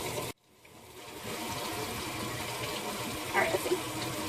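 Cold tap water gushes steadily while boiled eggs are peeled under it, after a brief silence at the start, with a few small clinks partway through.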